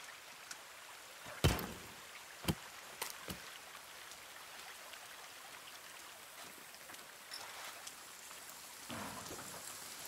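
Steady rain hisses through a thunderstorm in the survival game The Forest, broken by a few sharp cracks and brief bursts, with a softer rumble rising near the end; no voices.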